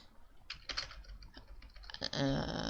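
Quick bursts of keystrokes on a computer keyboard while writing CSS code, close and soft, irregular clicks ending in a slightly louder flurry.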